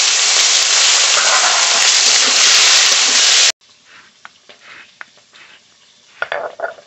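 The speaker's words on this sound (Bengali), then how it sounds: "এই মাছগুলো একইভাবে ভেজে নেব।" Fish sizzles loudly and steadily as it fries in hot oil for a few seconds. The sizzle then cuts out, leaving faint kitchen clinks and a few sharp knocks.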